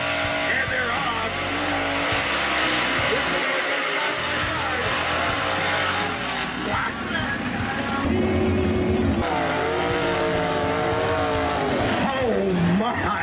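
Big mud-race trucks roar off the start line together, loud engines revving and rising in pitch under an excited commentator's voice, with crowd noise throughout.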